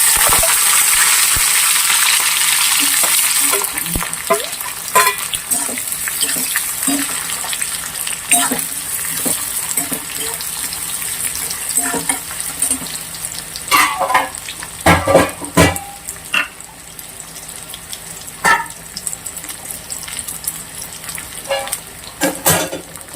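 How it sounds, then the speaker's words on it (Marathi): Onion, garlic and curry leaves tipped into hot oil with cumin seeds, giving a loud crackling sizzle at first that settles into a steady frying hiss broken by sharp spatters and the scrape of stirring. "आणि ह्याच्यामध्ये लसूण, कढीपत्ता आणि कांदा आहे, जो मी आता ह्याच्यामध्ये एकत्र सगळं टाकणार आहे."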